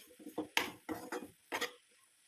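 Green bean thoran being mixed with pepper powder in a pan, a few close, distinct scraping and tapping strokes of a spoon against the pan in short bursts with brief pauses.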